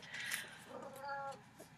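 A 17-year-old Siamese and tabby mix cat gives a single drawn-out, wavering meow, close but soft, in a quiet room.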